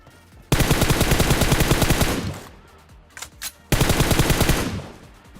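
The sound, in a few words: gunfire in video game PUBG, M416 and Kar98k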